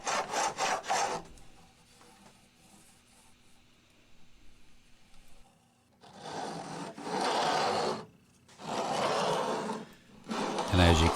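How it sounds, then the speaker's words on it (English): A file bevels the ends of newly installed frets on a vintage Hohner Shark Fin guitar, with bursts of rough rasping strokes separated by a quiet stretch. "we flip it over and then we bevel the frets"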